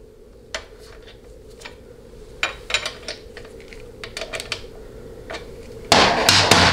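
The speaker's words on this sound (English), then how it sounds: "I'm gonna start basically turning the lock nut inward with the wrench while I hold the adjustment screw in place." A wrench turns the lock nut during band adjustment on a Ford C6 transmission, giving scattered close metallic clicks and taps, then a louder clatter of metal handling at the end, with no voices.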